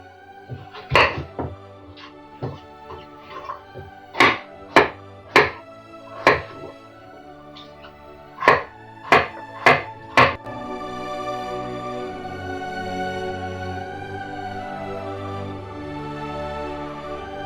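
A knife chops pumpkin into cubes on a cutting board in sharp, separate thunks, roughly a dozen strokes, then gives way to a steady hiss.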